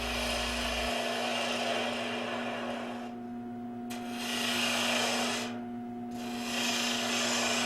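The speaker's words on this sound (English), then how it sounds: "I should be able to run down this surface all the way and make a very good surface of this just from the gouge" Woodturning gouge cutting a spinning timber capsule box on a lathe, a steady rasping shave with the cut easing off and returning twice, over a constant motor hum.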